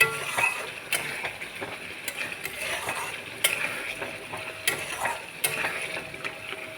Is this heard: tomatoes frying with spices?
yes